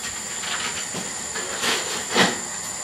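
A pot of pasta coming to the boil gives off a steady close hiss, swelling in a few brief surges of bubbling and steam, with no talking.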